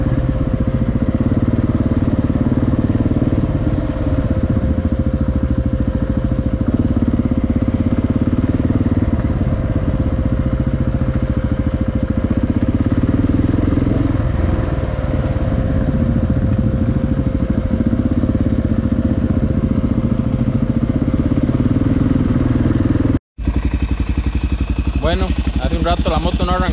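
A motorcycle that would not start, made to run by bridging its starter relay, idles steadily and loudly nearby for nearly half a minute, its engine chugging on without pause while voices talk over it.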